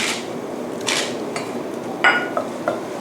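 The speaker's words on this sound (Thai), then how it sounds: "ขั้นตอนนี้นะคะเราก็จะผัดให้น้ำพริกแกงนะคะ หอมซะก่อนค่ะ" Southern Thai red curry paste is stir-fried in vegetable oil in a pot over low heat for a beef curry. A utensil scrapes and clinks against the metal a few times over a soft, steady background hiss, with no talking.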